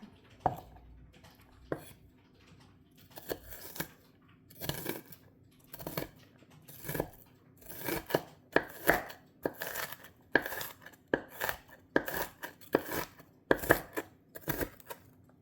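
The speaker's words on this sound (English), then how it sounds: "Get them finely diced. That's enough onion." An onion being finely diced with a knife for a sausage bake, heard as close, crisp blade strikes on a cutting board, sparse at first and then settling into a quick, steady chopping rhythm with no talking.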